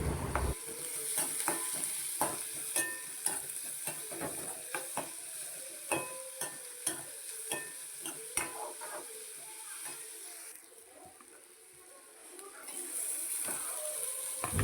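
Steady sizzling of onions frying in a pan, with repeated scraping and stirring clicks from a utensil; the sizzle briefly eases near the end.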